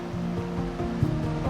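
Green River flowing past a riverside campsite, a steady rushing wash of water heard close by with no talk.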